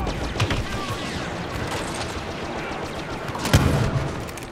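Gunfire in the Star Wars Battlefront video game, with bursts of blaster shots and a louder blast near the end over a dense background rumble of battle.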